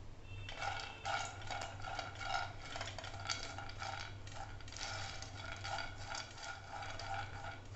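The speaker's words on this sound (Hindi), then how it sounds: "तो यहाँ पर मैं सबसे पहले 1 टीस्पून जितना घी डाल रही हूँ और ये जो मेरे पास यहाँ पर मूंगफली है उन्हें एक बार पहले रोस्ट कर लूंगी।" Peanuts are roasted in ghee in a pan, with repeated scraping, stirring and rattling of nuts against metal over a constant low hum, close and fairly quiet.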